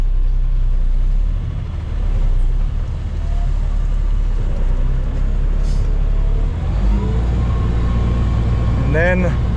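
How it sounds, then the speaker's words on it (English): A big truck's engine throttles up to drive a hydraulic pump, a loud steady low rumble and whine that holds throughout, with a rising mechanical squeal near the end. "the throttle just increases the hydraulic pump"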